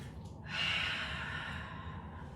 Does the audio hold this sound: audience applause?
no